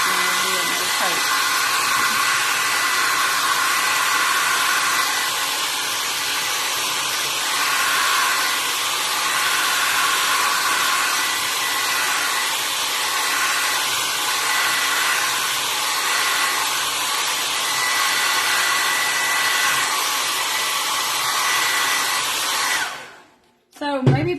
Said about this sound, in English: having to use a blow dryer